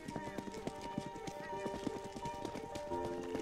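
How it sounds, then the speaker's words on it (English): Horse hooves clip-clop in a steady rapid rhythm with a neigh ringing out, set inside the video game CS:GO on a haunted map, fairly quiet and without talk. "I see a horse."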